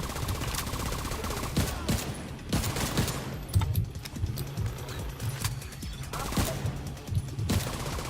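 Automatic gunfire in The Division 2 video game, a nearly continuous stream of rapid shots with short breaks, loud and close, with little talk over it.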